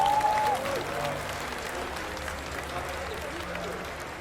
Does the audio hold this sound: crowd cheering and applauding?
yes